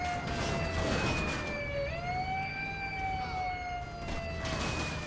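A wailing ambulance siren in a zombie video game sweeps up and down continuously, loud and close, with its tone dipping and rising in a steady cycle.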